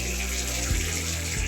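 Water running and splashing steadily from a home fish tank as it is drained, a continuous nearby flow with a brief low thump partway through.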